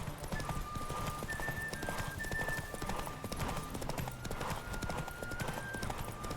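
Horse hooves galloping in The Witcher 3 video game, a rapid, continuous clip-clop rhythm under steady game ambience with faint tonal music, no talk.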